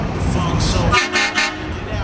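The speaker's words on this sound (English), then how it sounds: "And a train horn, ladies and gentlemen." A loud train horn fitted to a car sounds three quick blasts over a rumbling engine and background chatter, close by, at a car show cruise.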